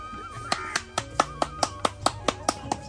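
A small group claps in an even, steady rhythm of about a dozen crisp hand claps to open a new kitchen in a Punjab village home, close and clear, with a faint tonal hum beneath.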